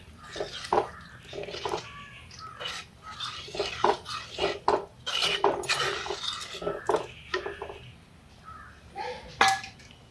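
Prawn curry is stirred in a clay pot, producing a string of close, irregular scraping knocks and clinks of the utensil against the pot's sides in uneven bursts.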